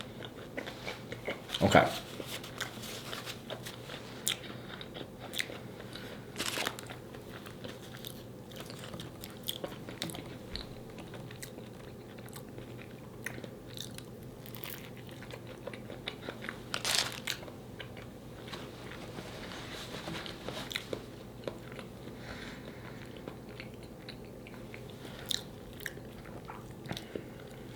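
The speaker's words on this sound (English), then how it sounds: "Dipping the samosa in this is very good." Samosa dipped in a creamy tzatziki-like sauce being eaten, with soft biting and chewing crunches close to the mic, a louder bite early on, and a brief spoken word.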